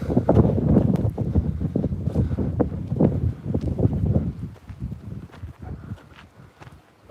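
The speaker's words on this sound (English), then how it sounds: "Pretty windy, Jason." Blustery wind buffets the microphone in continuous low rumbling gusts, with some scattered knocks and movement, easing slightly toward the end.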